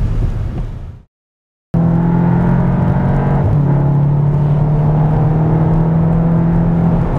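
A VW Arteon R Shooting Brake engine drones loudly and steadily under acceleration. The sound cuts out for a brief silent gap near the start, then returns as an unbroken, near, even hum.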